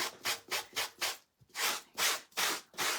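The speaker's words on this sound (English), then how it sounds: "we're going to take the gator tool and we're just going to rub right over the top of that." A gator tool is rubbed over the top of a grain sack in steady back-and-forth strokes, about eight rasping scrapes with a brief pause in the middle, close and loud with no voices.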